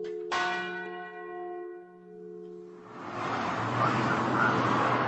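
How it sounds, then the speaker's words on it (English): A memorial bell at Katyn in the Smolensk region tolls once, its strong ringing strike decaying slowly with long humming overtones, followed by a broad rushing wash of traffic or wind noise that swells and persists to the end. "as the bell that tolls here every morning testifies"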